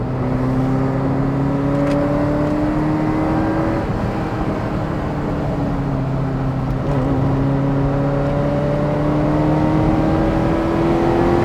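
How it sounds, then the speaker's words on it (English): A Ferrari V8 engine pulls hard, heard loud and close from inside the car, its droning tone climbing steadily in pitch through two long, smooth acceleration runs with a brief dip between them. "And the noise, like I said earlier, it's hard to compete with a Ferrari V8."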